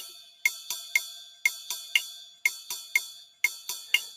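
Bright metallic ride cymbal strikes straight eighth notes in an even, steady pulse, each ping ringing briefly with a shimmering wash, played alone and fairly close.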